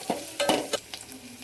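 Red chillies and whole spices dry-roast in a pan, with a few quick scraping stirs and soft rustles up close, brief and fairly quiet.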